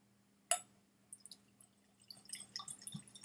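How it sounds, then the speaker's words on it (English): A sharp clink against glass, then a light trickle and scattered small drips of Scotch whisky, close by and quiet, with no talking. "Pour the whole dram in there."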